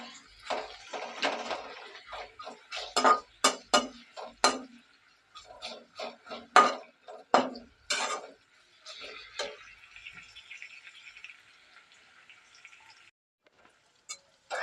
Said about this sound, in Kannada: ಹಾಗೆ ಈರುಳ್ಳಿ ಚೆನ್ನಾಗಿ ಹುರ್ಕೊಳ್ಬೇಕು